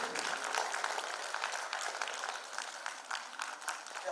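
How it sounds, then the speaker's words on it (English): A conference audience at CAHOTECH 2025 gives a steady round of applause for the day's session hosts: a dense, continuous patter of many hands at moderate volume. "can we have a quick round of applause for our hosts for the day"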